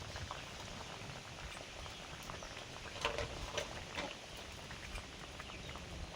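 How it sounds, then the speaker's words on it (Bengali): Koi fish slipped into a simmering vegetable curry with added water, a steady hissing bubble of the pot that runs throughout, with a couple of brief clatters near the middle. "কই মাছগুলো দিয়ে দিচ্ছি।"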